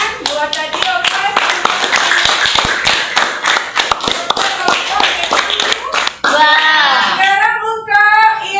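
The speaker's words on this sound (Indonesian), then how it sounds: "Keren ya, tepuk tangan buat tadi opas." Students in a class applaud with quick, crowded hand claps for about six seconds, mixed with children's voices, before the clapping fades and a voice speaks alone.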